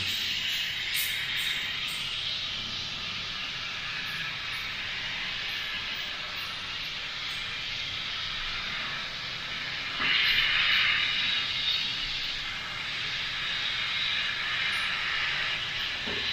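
An airbrush spraying custom paint gives a continuous, even, airy hiss that runs close and unbroken throughout, swelling slightly louder for a stretch midway.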